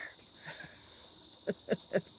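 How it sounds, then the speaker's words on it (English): A steady, high-pitched insect buzz of cicadas drones through the whole stretch, with a few short, louder bursts of another sound near the end. "Listen to those cicadas."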